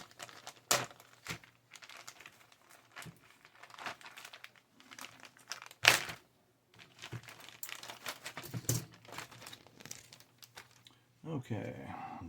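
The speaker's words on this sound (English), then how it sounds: "Here is another plastic bag with 2 more screws in it." Plastic bag holding two screws from a Tamiya 1/35 British 25 pounder field gun and quad gun tractor model kit crinkles and rustles in close, irregular bursts, with brief pauses between handlings.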